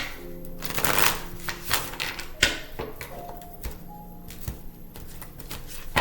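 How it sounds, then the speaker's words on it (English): A deck of cards is shuffled and riffled repeatedly nearby, producing crisp flurries of rapid flicks and taps. "This is the shuffling part, so just bear with me."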